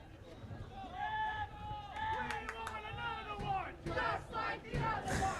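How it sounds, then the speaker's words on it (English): Soccer fans at a boys high school match between Eudora Cardinals and Chanute Blue Comets cheer and chant loudly as a crowd, with rising shouts and yells layered over steady crowd noise. "fans are chanting all kinds of excitement down here in front of us"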